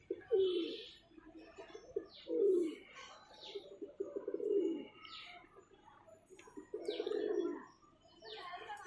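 Pigeons cooing on a rainy day, repeated low throaty coos in rhythmic bursts close by, with faint chirps and light background rain.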